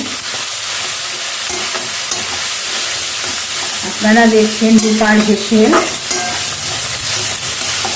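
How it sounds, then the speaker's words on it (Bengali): Spice paste for a Bengali katla fish-bone chachchari sizzles and scrapes as it is stirred in a hot pan, a steady frying hiss throughout, with a voice speaking briefly midway. "এবার মশলাটাকে ভালো করে কষিয়ে নেব। মশলাটাকে কষিয়ে নিচ্ছি।"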